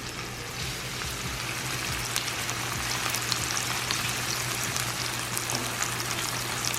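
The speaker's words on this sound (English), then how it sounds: "we have a good sizzle on the steak now" Flank steak sears in a hot pot with a steady, dense sizzle and crackle that holds close and constant throughout.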